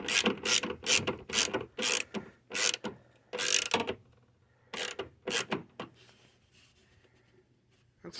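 A hand ratchet clicks in quick bursts, tightening a bolt on a Dodge Dart cold air intake, with several short rapid sequences separated by pauses, close and fairly quiet.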